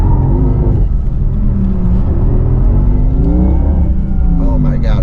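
Porsche Taycan Turbo GT electric car heading into a corner and braking zone on a wet road, giving a steady loud rumble and whir close up with a rising tone, while a person talks throughout.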